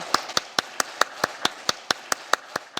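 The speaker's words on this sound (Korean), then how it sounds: "요한계시록 22장까지 새벽을 이끌어 주신 우리 하나님께 영광의 박수 한번 하겠습니다" A church congregation applauds in unison at an early-morning service, giving about twelve sharp, evenly spaced claps in steady rhythm, close and clear with no talk over them.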